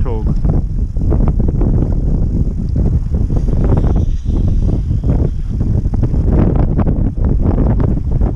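Wind buffets the microphone on Sebago Lake in Maine while fishing from a boat at ice-out, a steady loud rumble running under continuous close talk.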